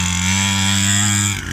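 A 50cc mini moto engine revs hard and steadily at high pitch, loud and close, for a brief burst before dropping off at the end.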